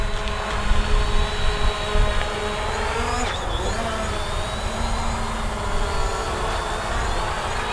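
A camera drone, a Fimi X8 SE or Hubsan Zino, lifts off in auto takeoff and hovers, its propellers producing a loud, steady whine with shifting tones, outdoors near a picnic area.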